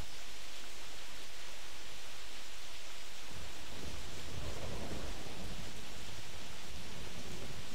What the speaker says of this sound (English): It did sound like thunder